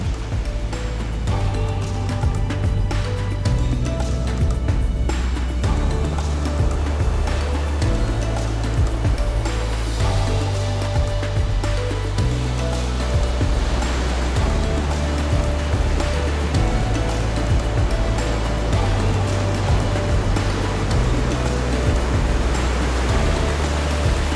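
Surf washing steadily onto the shore beside a seaside campsite at dusk, a continuous broadband rush with low rolling swells and no voices.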